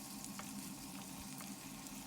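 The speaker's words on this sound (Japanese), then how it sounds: "この玉ねぎは透明になるまでしっかり炒めてください" Chopped onions fry in a generous amount of olive oil in a pot until translucent, giving a steady, soft, close sizzle with faint crackles throughout and no talking.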